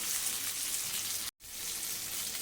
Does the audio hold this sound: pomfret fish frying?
yes